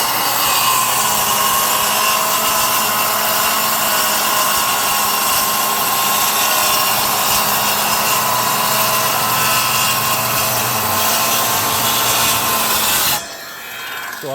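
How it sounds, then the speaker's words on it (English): A circular skill saw makes a curved cut through wood, a loud continuous whining rasp that holds steady for several seconds and then stops abruptly. "Curved cut with a skill saw."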